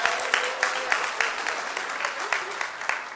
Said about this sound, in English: Let's give Julius a big round of applause.